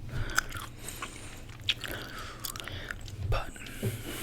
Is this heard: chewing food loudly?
yes